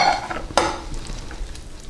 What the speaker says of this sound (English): Now let's stir in those vegetables.